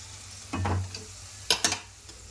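Curry leaves and a pinch of turmeric dropped into hot tempering oil for peanut chutney, giving a short sizzle and a couple of sharp, close crackling bursts over a low stove hum.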